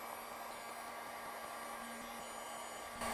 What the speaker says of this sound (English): I'm gonna go with the heat gun one more time.